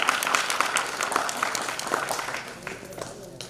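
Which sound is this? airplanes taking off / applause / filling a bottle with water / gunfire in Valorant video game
applause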